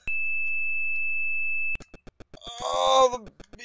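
A sustained electronic beep tone holds for under two seconds, followed by a rapid series of short clicks and a rising synthetic wail.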